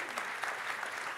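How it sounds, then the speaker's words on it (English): Brief burst of dense audience applause for panelists at a business summit, a continuous wash of many hands clapping at moderate distance. "So please, a round of applause for all of them."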